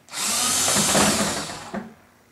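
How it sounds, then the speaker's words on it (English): A power drill bores through two layers of injection-molded plastic on a compost tumbler, a loud, close whine that rises sharply, holds steady for over a second with a grinding texture, then trails off with a short burst near the end. "And you're drilling through 2 layers"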